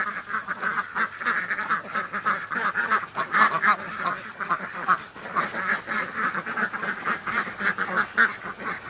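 Ducks quack repeatedly and loudly at close range on a farm by a creek, a steady run of overlapping nasal calls with some goose-like honks mixed in, and no talking.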